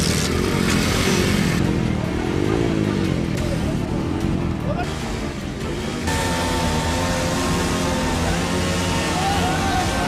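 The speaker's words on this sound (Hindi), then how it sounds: "तो आज मैं 10 बाइकें रोक रहा हूं" Several motorcycles rev and drone loudly during a strongman bike-stopping stunt, their engines roaring continuously throughout with a shift in pitch partway, amid crowd noise and voices.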